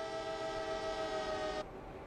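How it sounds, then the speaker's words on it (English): A modern train running on rails in an Unreal Engine 5 simulation gives a steady tonal hum with layered whine, fairly quiet and alone, cutting off abruptly near the end to a low rumble. "let's wait for this train to come around."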